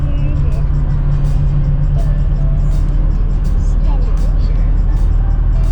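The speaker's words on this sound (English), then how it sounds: "We're in the car, and our windows are kind of foggy, but we're on the road." Steady, loud low road rumble and engine drone fill the cabin of a car driving on the road with fogged windows, holding constant throughout with no clear passing events.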